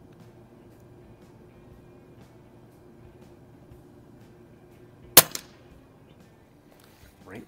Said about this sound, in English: So I'm gonna shoot second row from the bottom center bullseye.